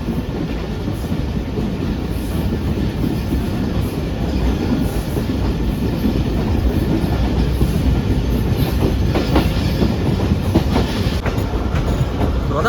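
Shah Latif Express rolling fast along the line, continuous heavy rumble with clattering wheel beats and occasional metallic squeal, close and steady throughout with no talking.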